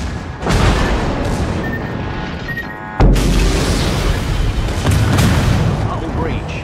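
A torpedo strike explodes against a warship in the naval battle game World of Warships, a loud, deep boom that bursts in abruptly mid-clip over a continuous rumble of battle noise.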